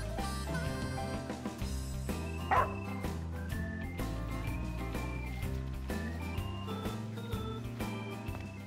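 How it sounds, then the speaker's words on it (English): A dog barks in the Final Fantasy XV video game, heard briefly over a steady bed of game music that runs throughout. "That dog can really track a scent."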